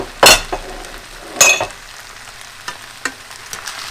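Two eggs folded into rice frying in a pan for eight jewelled fried rice: a couple of loud scraping stirs over a quiet sizzle, then a few lighter taps.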